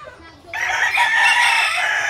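A rooster crows loudly and close by after a short quiet start, its drawn-out call filling the rest of the clip, with faint clucking from tethered chickens around it.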